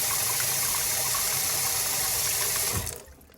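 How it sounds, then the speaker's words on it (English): Steady, close water flow from a Dalmo touchless kitchen faucet into a sink, running strongly and evenly before cutting off abruptly near the end. "You see, we got the water on, but it don't work unless you put your hand in front."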